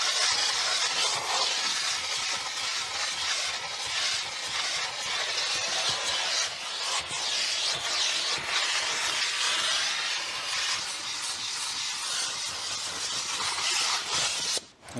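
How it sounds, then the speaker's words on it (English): A steam cleaner hissing continuously over the leather seats of a helicopter, a close, steady rushing jet with slight fluctuations, running unbroken until an abrupt stop at the end. "I'm going to use my steam cleaner now on the seats"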